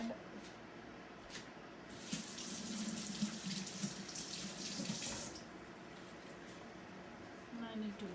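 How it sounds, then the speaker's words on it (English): A kitchen tap runs with a steady splashing rush while hands are washed during biryani preparation, starting abruptly and stopping after several seconds; a voice talks faintly in the background. "I need to wash my hands."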